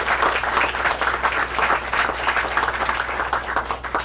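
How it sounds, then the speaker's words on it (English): A crowd at a public transit announcement applauding steadily, dense clapping that holds at an even level throughout without pause. "Let's give them a round of applause"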